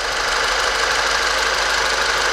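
Rebuilt 200 hp Volkswagen Jetta TSI engine running at its first start, a steady, loud, continuous mechanical hum and clatter heard up close with no talking.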